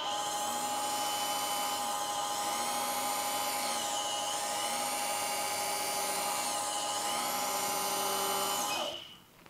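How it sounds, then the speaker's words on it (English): A high-pitched dental implant drill boring into bone whines continuously, its pitch dipping and rising in repeated up-and-down cycles before stopping abruptly at the end. "now I'm going to go ahead and run the drill before I contact bone"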